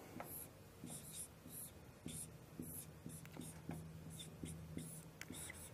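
Pen or chalk writing out an equation in Dirac notation, a steady run of short scratchy strokes and taps, close and quiet, with no talk over it.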